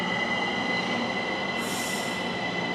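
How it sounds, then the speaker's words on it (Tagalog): Steady rumble of a rail car during a train ride in Taiwan near Taipei, with continuous wheel and track noise and a brief rise of high wheel squeal toward the end; no one speaks. "Magte-tren na lang muna kami. Road trip ng tren."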